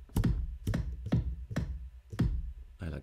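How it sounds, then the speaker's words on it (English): Computer keyboard keys pressed one at a time to browse samples, five or six crisp, evenly spaced clicks close up, each with a short ringing tail, no voices. "now you can just go through them with the computer keyboard"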